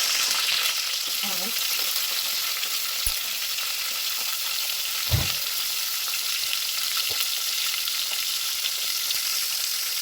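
Curry leaves and spices sizzling in hot oil in a pan, a steady close crackle with a few soft clinks of a stirring utensil.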